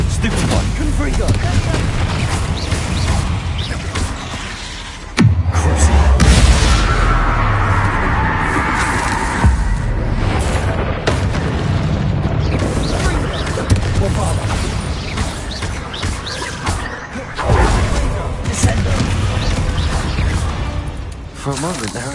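Spell-cast explosions from the Confringo fire spell in the video game Hogwarts Legacy, a loud burst of booming blasts and crackling debris over a busy game soundtrack, with a voice talking throughout.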